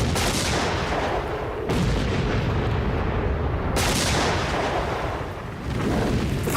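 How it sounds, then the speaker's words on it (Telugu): Bomb explosions in a scene from the Telugu movie Sainikudu: heavy, rumbling blasts roll one after another, with fresh loud bursts landing close and then trailing into a long, noisy roar. "బాంబులయ్యండ్రా"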